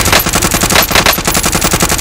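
Rapid automatic gunfire from the video game Warzone rattles out in a loud, steady string of bursts with a fast, even rhythm throughout, close and with no talk over it.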